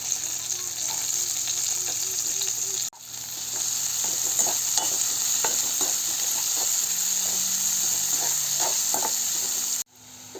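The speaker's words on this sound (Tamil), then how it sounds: "பெரிய வெங்காயத்தை வந்து பொடி பொடியாக கட் பண்ணி வச்சுருக்கேன் அது இதோடு சேர்த்துட்டு நல்லா பொன்னிறமாக வறுத்துடலாம்" Chopped onions frying with curry leaves in a pan sizzle in a steady, continuous hiss, with scattered spoon scrapes and stirring clicks throughout, cut by two brief silences.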